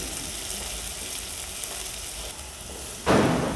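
Leeks and celery sautéing in a pan with a bay leaf and peppercorns, a soft steady sizzle that swells into a louder burst of frying near the end.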